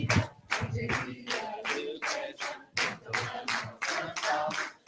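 A church congregation claps together in a loud, close, rhythmic series of about nine evenly spaced bursts, with no talking over it.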